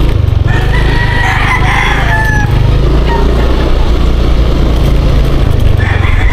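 A rooster crows in short bursts over a loud, steady rumble of street traffic and background noise on Quezon Street.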